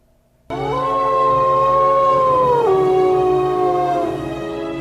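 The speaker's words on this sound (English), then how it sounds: "still has the medicine, but comes across Kimba the White Wolf?" A wolf howls in the animated film Balto, one long sustained wavering howl that rises, holds and then drops in pitch, loud and close with no speech over it.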